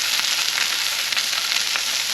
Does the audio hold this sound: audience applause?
no